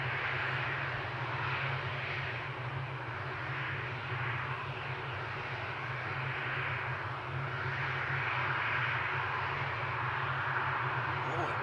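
An airliner takes off at Amsterdam Schiphol, its engines giving a steady, broad roar that holds at full strength for the whole stretch, with a crowd of spotters around and faint voices mixed in.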